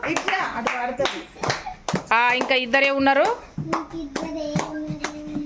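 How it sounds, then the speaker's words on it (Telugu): Sharp hand claps ring out repeatedly in an uneven rhythm during a children's handkerchief game played in a room, close and loud, mixed with excited children's and adults' chatter throughout. "క్లాప్స్ కొట్టాలి"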